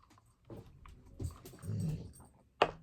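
An old dog that is going blind and has dementia grunts and whimpers close by: several low, soft grumbles and short vocal bursts, ending in one sharper, louder yelp.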